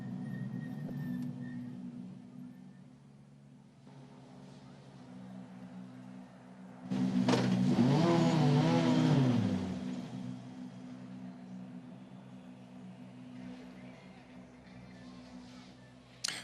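Volvo touring race cars of the 2017 WTCC round in Portugal pull away from the start, a loud swelling engine roar that rises and climbs in pitch for a few seconds over steady background hum, then fades as they go.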